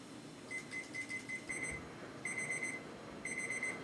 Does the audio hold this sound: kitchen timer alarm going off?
yes